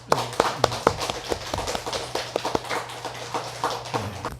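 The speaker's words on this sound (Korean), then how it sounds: "우리 아버지께 영광의 박수를 올려드립시다." Congregation clapping in a church service, a string of sharp, separate claps in an uneven rhythm over a low steady hum, close and moderately loud, with no voices.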